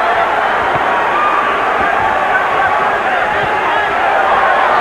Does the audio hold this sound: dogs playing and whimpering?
no